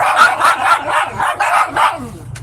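Dogs barking loudly and close, a quick series of about eight sharp barks with a whimpering yip near the end, no talk over them.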